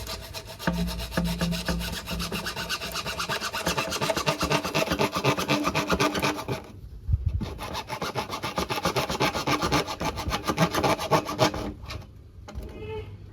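A hand saw cuts steadily through wood to open a beehive, making a continuous, close, rasping back-and-forth stroke that barely stops, with one brief pause in the middle.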